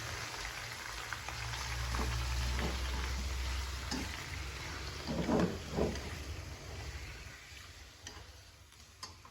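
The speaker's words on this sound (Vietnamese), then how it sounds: "Rồi tỏi nó vàng đổ bạch tuộc vô xào cả nhà." Octopus sizzles as it is stir-fried with golden garlic in a hot pan, a steady close frying hiss broken by scraping stirs and a few louder spatters near the end, with no talking.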